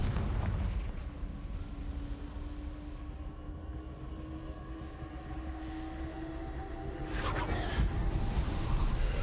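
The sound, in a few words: Confringo and Bombarda spell explosions, Hogwarts Legacy video game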